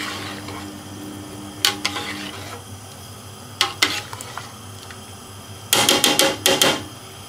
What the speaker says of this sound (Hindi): इसको हम दोबारा मिक्स कर लेते हैं।